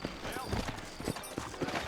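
Horse hooves clip-clop in steady rhythmic beats in the video game Red Dead Redemption, close and clear, with speech running over them.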